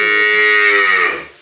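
A native desi dairy cow on a Bangladeshi farm lets out a single loud, close moo lasting just over a second, fading at the end with nothing else heard.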